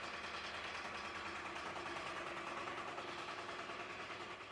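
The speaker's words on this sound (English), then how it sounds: "The air compressor is now running, and the air pressure inside the air bottle is slowly increasing." Main air compressor running steadily in a ship's engine room, a continuous, even mechanical hum and rapid chatter with no change in level.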